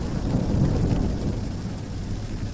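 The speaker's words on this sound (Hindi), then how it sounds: "फिर एक रात बहुत बारिश हो रही थी।" Heavy night rain pours in a steady, dense wash with a low thunder-like rumble underneath, continuous and fairly close throughout with no voices.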